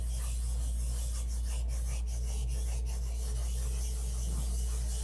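Steady, fairly quiet sanding of an airplane flap surface, a continuous raspy rubbing with faint rhythmic strokes over a low constant hum, no one speaking.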